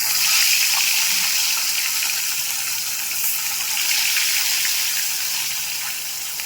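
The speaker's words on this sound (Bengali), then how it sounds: "তেল গরম হয়ে গেছে মাছটাকে দিয়ে দিচ্ছি" Whole small charapona fish frying in hot oil, a loud, dense, hissing sizzle close to the pan that holds steady throughout and eases slightly toward the end, with no talk.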